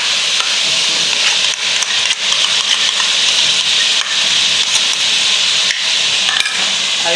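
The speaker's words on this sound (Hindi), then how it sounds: "अब इसको भून लेंगे।" Masala mixed with yogurt fries in a pan for Lahori chana curry, giving a steady loud sizzle with scraping and stirring rubs throughout and no talking.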